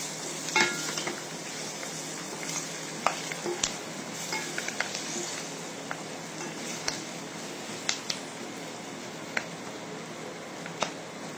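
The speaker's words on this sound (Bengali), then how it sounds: "এরপর এতে দেবো চৌকো চৌকো করে কাটা পেঁয়াজ।" Diced onions frying in oil in a pan, a steady close sizzle with occasional sharp clinks and scrapes of a spoon stirring, no talking.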